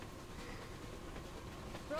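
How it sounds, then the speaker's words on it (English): A train rumbles along in the video game Metro Exodus, a quiet steady low rolling drone throughout. "Just been chilling on the train."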